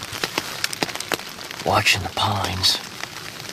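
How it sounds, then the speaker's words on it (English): Rain patters outdoors on a hunting blind along a pine row on Pennsylvania's opening day of rifle deer season, a close, irregular tapping of drops while someone speaks quietly over it. "It's raining."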